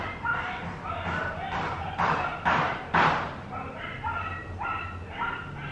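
Dogs in Jamaica bark in a series of loud, close yaps and woofs, several sharp barks clustered around the middle of the clip.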